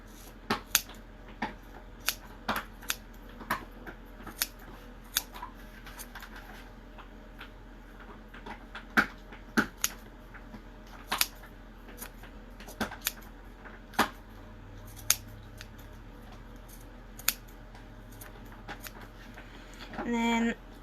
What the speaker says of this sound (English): so now just going to go through and kind of trim them up, get all the stragglers